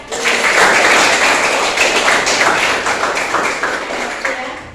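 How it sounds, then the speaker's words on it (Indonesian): Students in a classroom give a round of applause, a loud, steady wash of many hands clapping close by that thins slightly toward the end. "Tepuk tangan buat semuanya."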